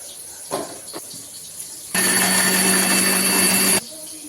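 After a couple of soft knocks, a blender grinding chili and ginger into paste whirs loudly for about two seconds, a steady high-pitched grinding that cuts off abruptly.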